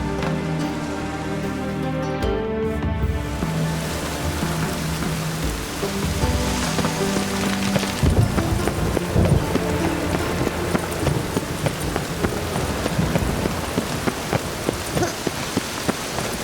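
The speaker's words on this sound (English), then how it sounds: "The storm, damn it." Heavy storm rain pours steadily and loudly in The Witcher 3, a dense continuous patter of drops over music that fills the whole scene.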